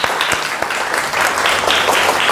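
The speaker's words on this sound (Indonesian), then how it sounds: "Tepuk tangan untuk kita semua" A classroom of students claps together in a dense, loud burst of applause, close and continuous with a few sharper individual claps standing out.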